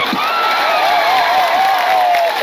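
Political rally crowd at a BJP gathering in Gujarat cheering and clapping, a loud, continuous wash of many voices with whoops rising over steady applause, close and dense throughout.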